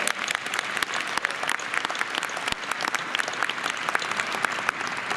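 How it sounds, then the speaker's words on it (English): A graduation audience at the Burrell College of Osteopathic Medicine's 2022 ceremony applauds: dense, sustained clapping from a large crowd in a hall, steady throughout with no talking. "so let's give them a round of applause as well."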